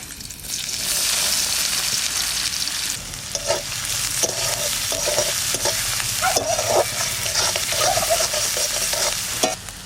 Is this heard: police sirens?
no